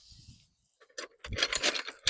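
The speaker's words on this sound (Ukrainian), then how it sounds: "Ось такий набір ключів." A set of metal wrenches, large and small, handled in a shop selling motors and gearboxes, clinking and jangling in short bursts up close after a brief quiet pause.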